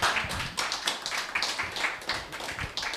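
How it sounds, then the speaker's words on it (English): A small audience claps in a short round of applause, distinct individual hand claps in an uneven rhythm, fairly close and without talking. "Round of applause"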